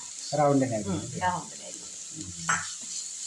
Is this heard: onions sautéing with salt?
yes